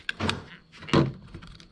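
A car's interior door handle is unclipped and pulled straight out while the door panel is being removed: two short plastic clicks and knocks, one near the start and a firmer one about a second later, with no talking.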